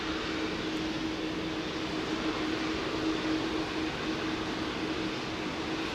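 A Boeing 747 on Heathrow's runway 09R, heard as a steady, loud broadband jet roar with a sustained engine whine held evenly throughout, close and unbroken with no voices.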